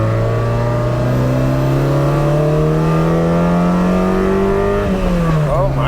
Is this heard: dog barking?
no